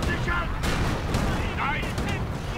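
A rocket barrage in a World War II strategy game sets off a rapid run of overlapping explosions and booms, loud and continuous over the short stretch, with a voice talking over it.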